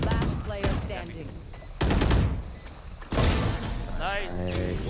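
Gunfire in the Valorant shooter game, with sharp, loud bursts of rapid shots in several volleys separated by short gaps, while players talk over them.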